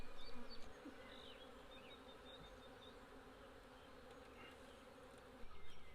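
Honey bees buzzing around an opened hive while the colony is split into an artificial swarm, a steady, dense hum with occasional louder passes of single bees near the listener.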